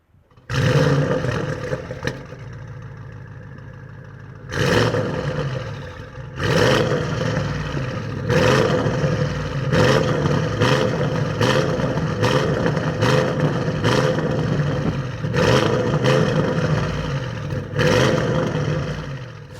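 Tuned Audi RS6 C8 with over 750 horsepower, a loud, close engine roaring through repeated revs and acceleration pulls, with sharp bursts at each gear change over a sustained drone.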